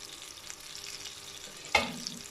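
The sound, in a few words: sandwiches sizzling in melted butter on a pan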